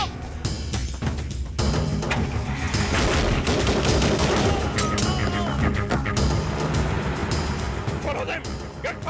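Rapid gunfire in a film scene, bursts of loud shots over engine and vehicle noise, with shouting voices mixed in throughout.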